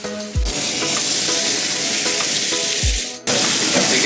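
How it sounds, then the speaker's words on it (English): Meat searing in a hot pan, a loud steady sizzle and crackle, briefly interrupted twice by soft thuds as pieces are flipped, close and continuous with no talking. "I like to seal all my meat on all the sides. So we're just gonna flip them."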